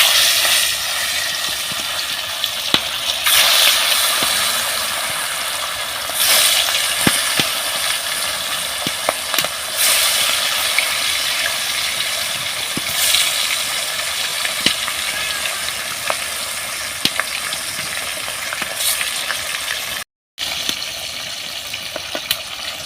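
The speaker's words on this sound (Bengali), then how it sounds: "তেলটা ভালোভাবে গরম হয়ে গেছে। এবার মাছগুলো এক এক করে ছেড়ে দেবো।" Pieces of rupchanda fish frying in hot oil give a loud, steady sizzling hiss with scattered pops and crackles, continuous throughout apart from a brief cut to silence near the end.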